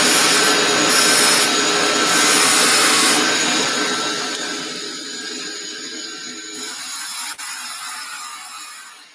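A TIG welding arc burns on a reground gray tungsten electrode, giving a steady loud hiss and buzz that fades and tapers toward the end, with no voices.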